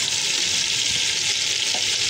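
Chicken biryani masala with green chillies, garlic-ginger paste and salt fries in a pan with a dense, even hiss, loud and close with no speech.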